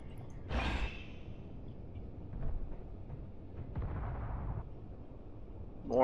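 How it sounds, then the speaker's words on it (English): Explosion in the space-building game Space Engineers: a burst of noisy rumble early on, with muffled thuds and low rumbling afterward, moderately loud, no speech. "explosion noises."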